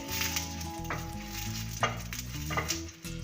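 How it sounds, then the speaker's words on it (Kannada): Chillies frying in a little oil over low heat make a gentle continuous sizzle close by, with occasional stirring scrapes and a steady low hum underneath. "ನಮ್ಮಲ್ಲಿ ನಾವು ಒಂಚೂರು ಎಣ್ಣೆ ಹಾಕ್ತೀವಿ ಕಾರಣ ಇಷ್ಟೇ ಘಾಟ್ ಆಗೋದಿಲ್ಲ ಅದ್ರ ಜೊತೆಗೆ ಏನಂದರೆ ಚೆನ್ನಾಗಿ ಮೆಣಸಿನಕಾಯಿ ಹುರಿಯುತ್ತೆ"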